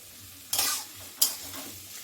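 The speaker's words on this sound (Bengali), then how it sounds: "পেঁয়াজ দিয়ে দিলাম" Chopped onions drop into hot oil in a pan for a potato curry, giving two sharp bursts of sizzling with scraping stirs. Quieter frying crackle carries on between them.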